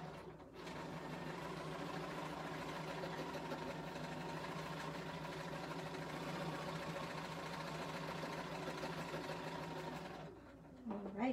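A BERNINA sewing machine runs steadily for about ten seconds, couching yarn in free motion, a fairly faint continuous whir that stops near the end.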